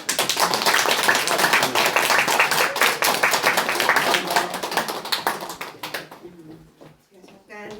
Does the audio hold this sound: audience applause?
yes